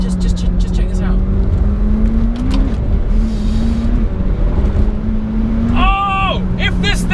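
A McLaren 720S sports car accelerates hard, its engine holding a loud, steady drone that climbs in pitch and steps up through gear changes, with road and wind noise and a voice faintly beneath.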